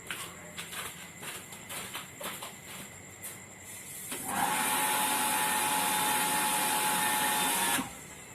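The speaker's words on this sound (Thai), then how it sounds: "ปั๊มก็เริ่มที่จะทำงานได้เป็นปกติแล้วนะครับ" An electric household water pump starts up once a tap is opened, switching on abruptly midway as a loud, steady motor whine with a constant hum that runs several seconds, then cuts off; faint knocks and clatter come beforehand.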